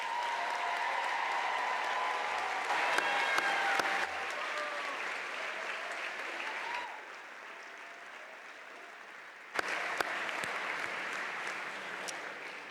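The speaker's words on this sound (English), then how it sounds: "How about one more round of applause for all of our graduates today?" A university commencement crowd claps steadily for graduates at a spring ceremony, moderately loud and a little distant, easing off slightly midway and then swelling again with a few sharper claps.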